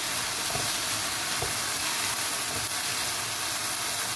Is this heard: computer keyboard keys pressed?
no